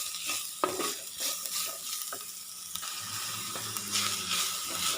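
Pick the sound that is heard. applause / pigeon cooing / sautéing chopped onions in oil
sautéing chopped onions in oil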